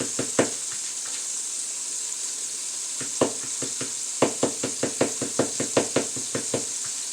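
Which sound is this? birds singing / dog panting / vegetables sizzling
vegetables sizzling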